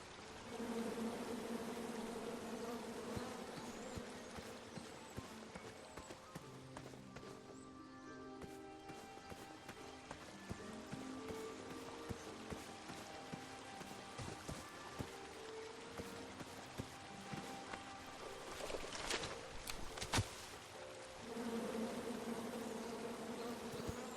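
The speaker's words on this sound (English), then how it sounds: "Come at me, bees!" Bees buzz continuously in the King's Quest game, a steady droning swarm layered under background music, with occasional brief sharp effects near the end.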